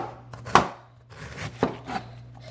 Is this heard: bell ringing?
no